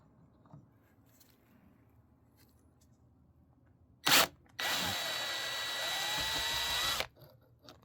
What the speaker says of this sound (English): I drilled deeper with that one, like I was talking about, and it grabbed it just fine